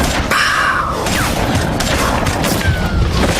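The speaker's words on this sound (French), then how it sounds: "Et très vite derrière, des coups de feu." Gunshots in a prison escape, sharp booming cracks with a crash-like burst near the start, set in a loud, dense, rumbling scene with no talking.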